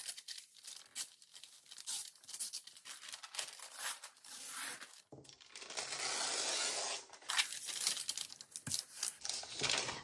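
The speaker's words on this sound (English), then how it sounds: "Then we have this huge sewing pattern. So I'm first going to tear this in half." A large paper sewing pattern being torn in half, heard as close, crisp ripping and crinkling in several bursts, with a longer continuous tear midway and no talking.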